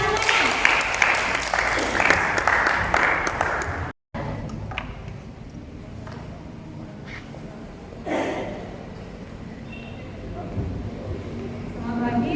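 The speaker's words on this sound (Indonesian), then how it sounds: "tepuk tangan semuanya" Audience at a financial management education training session applauds loudly for several seconds, then the clapping cuts off and gives way to a quieter room with softer noise.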